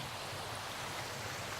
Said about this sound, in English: I'd love to climb down to that stream